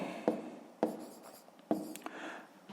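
A pen writes on paper while working a sixth-grade math exercise, a few quick scratchy strokes and taps, close and quiet in a still room.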